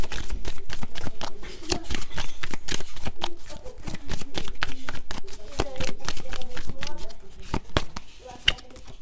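Tarot cards shuffled and drawn close up in dense rapid riffles and flicks that run the whole time, while someone talks softly underneath.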